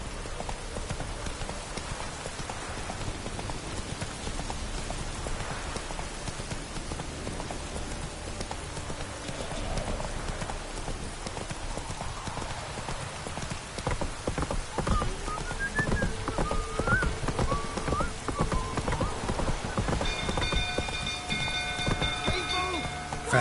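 Hooves of the horse Roach gallop in a video game, a steady rapid clip-clop over a constant rain-like wash, growing a little louder in the second half as music tones enter.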